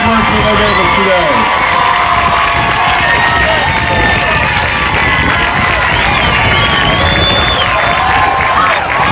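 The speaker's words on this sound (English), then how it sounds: "Let's have one more round of applause for all of our young people and the hard work that they gave us today." A large outdoor crowd claps and cheers for young marching band performers at a high school band competition, with loud, steady broadband applause and shouts filling the stretch and voices mixed in.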